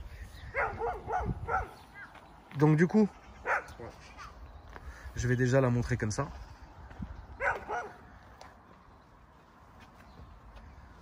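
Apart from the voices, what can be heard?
dog barking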